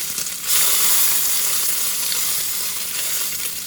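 Bacon sizzling and frying in a pan, a steady bright crackle with fat popping, close and fairly loud for about four seconds, rising in intensity after the first half second and holding, with no talking.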